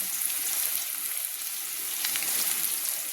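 Whole spices, a large cinnamon stick, four cloves and whole black peppercorns, fry in hot oil with onions for Kolkata-style chicken biryani, giving a steady, close, even sizzle with no pauses and no voices.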